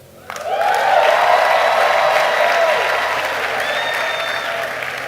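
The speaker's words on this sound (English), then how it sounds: "you see the type of clap and shout." A large crowd at a worship gathering breaks into loud, sustained clapping and shouting that swells quickly and stays dense, with cheers and whistles mixed in before easing slightly.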